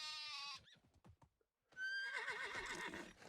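A horse in the medieval survival game Medieval Dynasty gives a loud, wavering whinny that rises and trembles for over a second, after a short neigh, a few hoof clops and a brief pause.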